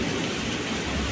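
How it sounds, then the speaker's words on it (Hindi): Steady, dense rainfall hissing continuously at night, a heavy downpour with no voices, close and fairly loud throughout. "कितना धुआंधार बारिश चालू है"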